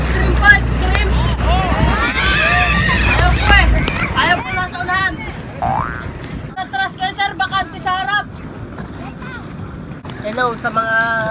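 A banana boat moving over water with wind buffeting the microphone, while several people talk and shout excitedly over the engine and splashing.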